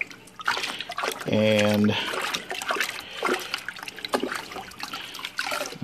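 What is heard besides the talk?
rinsing aquarium canister filter media in tank water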